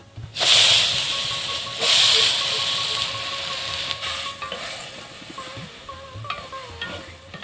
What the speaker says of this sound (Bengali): তরকারিতে বলক চলে এসেছে।